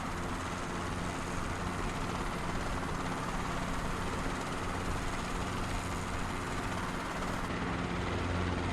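A Robinson R22 helicopter flying in the MSFS2024 flight simulator gives a steady, droning engine and rotor hum that holds at an even loudness throughout with no breaks.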